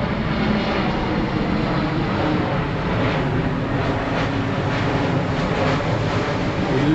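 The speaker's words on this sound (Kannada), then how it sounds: "ಈ ಒಂದು ರೆಸಾರ್ಟಲ್ಲಿ ನೀವು ಎರಡೆರಡು ನಿಮಿಷಕ್ಕೂ ಫ್ಲೈಟ್ ನೋಡ್ಬೋದು" A fixed-wing airplane flies low past a resort beside an airport, its engine roar a steady, loud broadband rumble that lasts the whole stretch with no voices over it.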